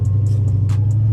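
A Dodge Charger SRT driving through a snowstorm: a steady low engine drone heard from close by, with a few faint ticks and clicks over it.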